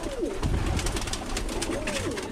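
Birmingham Roller pigeons coo inside a loft, with two clear rising-and-falling coos near the start and end over a steady, busy background of other birds and loft noise.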